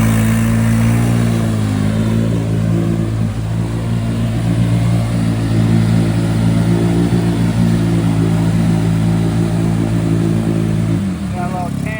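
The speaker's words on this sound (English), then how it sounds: "Got a little Can-Am 700 action going on." A Can-Am 700 off-road vehicle races at a lake mudfest, its engine revving loudly and continuously with shifting pitch, while people shout and cheer over it. The engine sound drops off sharply near the end.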